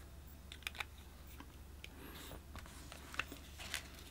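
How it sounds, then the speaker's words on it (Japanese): A Sheaffer fountain pen nib scratching across paper, a few faint crisp scritches and taps over quiet room hiss, close and soft. "このシェーファーで書いてみちゃおう"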